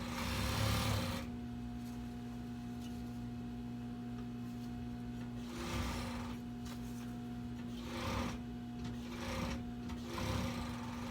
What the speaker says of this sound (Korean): 이제 자, 오버로커 그냥 제가 치고 올게요